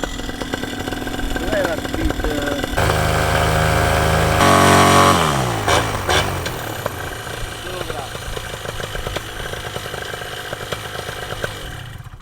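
A Vittorazi paramotor engine runs close by at a buzzing, chainsaw-like pitch, rising briefly in revs and then settling, with people talking over it.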